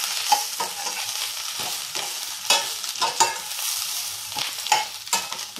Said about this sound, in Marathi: ही मिरची आपल्याला चांगली खरपूस भाजून घ्यायची